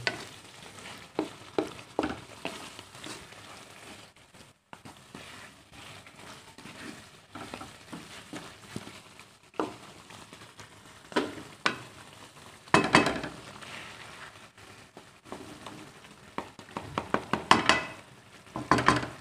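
Meat and potatoes for aloo gosht stirred and fried in a pot, a soft sizzle under repeated scraping strokes and occasional clatters of a spoon against the pan.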